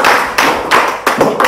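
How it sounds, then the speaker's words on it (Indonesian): Students in a classroom clap in applause, giving a loud, dense burst of hand claps that pulses in a few regular surges over about a second and a half. "tepuk tangan luar biasa"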